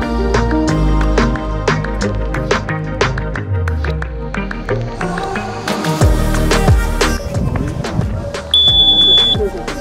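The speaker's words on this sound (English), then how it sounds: "Oh, that's a loud beep." A loud electronic beep, likely from a rocket's avionics or altimeter at a high-powered rocketry certification launch, sounds near and steady over busy outdoor activity, with a brief high tone late in the clip.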